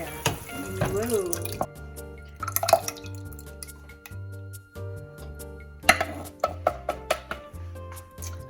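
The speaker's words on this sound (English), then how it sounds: "Now we're going to add our tomatoes. I'm using crushed tomatoes." Crushed tomatoes from a 15-ounce can pour into a cooking pot for lasagna sauce, making wet drips and splats in uneven bursts over low background tones.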